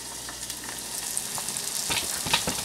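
An egg sizzles in a pan over a camp stove with the heat set too high, a steady close frying hiss with light crackle and a few scrapes near the end.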